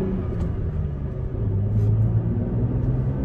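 A manual-transmission Toyota Tacoma engine pulling in a low gear, a steady close rumble that climbs slightly in pitch as the revs rise, with faint road noise and no talking.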